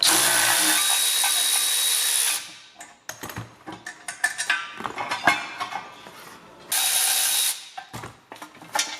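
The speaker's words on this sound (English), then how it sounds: "Let's see if we can get these last 4 torque bolts removed and try to swap this piece over." Ratcheting and clanking metal tool work on a bent Honda Civic EF trailing arm as its torque bolts are removed, with a steady hissing hum at start and end and scattered clicks and knocks between.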